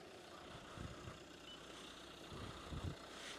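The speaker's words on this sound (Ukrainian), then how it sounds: "Двигунчик працює як часи, зауважень по ньому нема." A 2017 Renault Kangoo Express Maxi with a 1.5 dCi diesel engine idles steadily with a low, faint rumble and a few soft thumps, heard close and alone.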